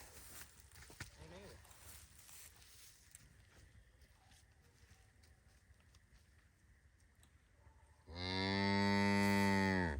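A cow lets out one long, loud, close moo near the end on a farm, after a stretch of quieter rustling, shuffling and brief voices in the background.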